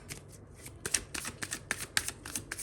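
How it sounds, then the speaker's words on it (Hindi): Tarot cards are shuffled and drawn in a quick series of soft, papery riffles and flicks, close and fairly quiet. "I'll pull one more card,"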